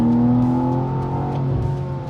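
The twin-turbo straight-six engine of a BMW M2 pulls hard under load, a loud, steady, smooth mechanical drone that holds close and continuous without any voices.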